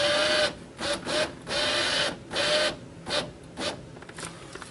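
A power window motor drives the regulator inside a 2002 Chevy driver's front door, a grinding mechanical whir that starts and stops in several short bursts of about half a second each, close and fairly loud.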